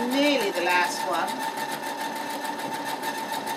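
A computerised sewing machine steadily stitches a programmed pattern, its needle giving a fast, even rhythmic whir with small jumps, close and continuous, while a voice briefly overlaps at the start.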